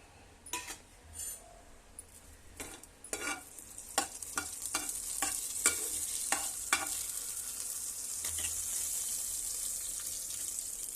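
Whole spices (bay leaf, cinnamon, cloves, cardamom) fry in hot oil for tomato bath, a soft steady sizzle building under sharp clinks and scrapes of a stirring spoon against the pan, no voices.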